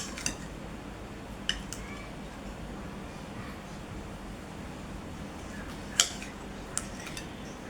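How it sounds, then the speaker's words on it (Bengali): A knife halves tomatoes on a board in a home kitchen, giving a few sparse, faint taps and clicks over a constant hissing background. "তো আমি টমেটোগুলো মাঝখানে ফালি করে নেব বন্ধুরা।"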